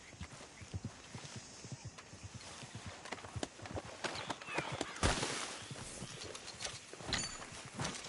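Horse hooves clip-clopping at a brisk pace in the open-world video game Red Dead Redemption 2, a steady rhythmic patter of hoofbeats with light ambient game sound, fairly quiet.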